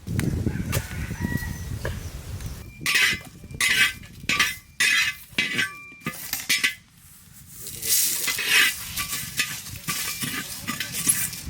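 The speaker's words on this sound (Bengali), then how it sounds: "ভাজাটা হচ্ছে হলো জিরে আর তেজপাতা, শুকনো খোলায় ভেজে নেব।" Cumin and bay leaves dry roast in a hot pan, with a choppy series of loud scraping stirs and rattles broken by brief pauses, then a steady rustling sizzle. Faint bird calls sound in the background.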